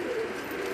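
High flyer breeder pigeons coo in a brief, low, throaty burst, close by and moderately loud, with no talk over it.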